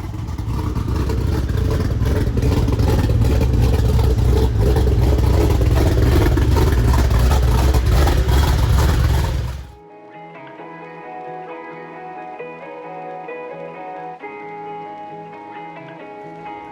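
A 1,000whp Chevrolet Silverado engine roars loudly and close for about ten seconds in a dense, rumbling wall of sound, then cuts off abruptly as music takes over.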